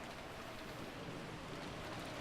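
Steady rain falling in the Umineko visual novel, a soft, continuous broadband hiss of drops with no breaks, moderately quiet and even throughout, with no voices.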